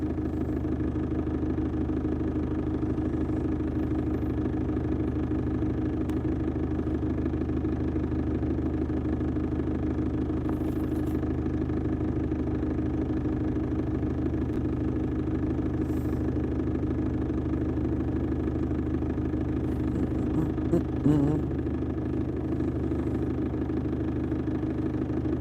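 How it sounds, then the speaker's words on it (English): A parked car's engine runs at a steady, low idle for the whole stretch, a constant close hum with no speech and only a couple of faint handling noises near the end. "Just wish this car wasn't so loud."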